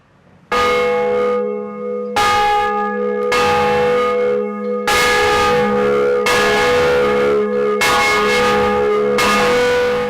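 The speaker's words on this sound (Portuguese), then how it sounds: "nas duas procissões litúrgicas é que há o dobre e o repique. É o bam, bam e os outros sinos, é tudo ao mesmo tempo" Several church bells ring together in a festive repique, loud and resonant, struck in bursts with short gaps between them and overlapping metallic tones sustaining and decaying, no voices present.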